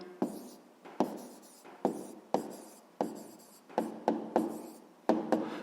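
A pen writes an answer into a notebook, close and quiet, with about ten separate scratchy strokes coming in an uneven rhythm.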